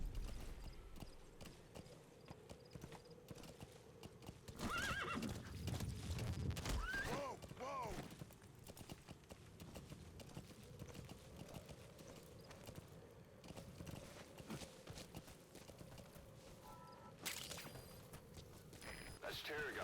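Horse hooves clip-clopping in Metal Gear Solid V: The Phantom Pain, a continuous rhythmic trot beneath game ambience and music, with a whinny and a voice talking briefly.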